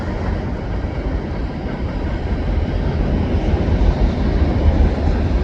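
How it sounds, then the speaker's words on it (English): A CN freight train heads eastbound beneath the Des Sources pedestrian footbridge with a loud, continuous low rumble and roar that builds slightly as it passes. "here's a CN train heading eastbound underneath the Des Sources footbridge."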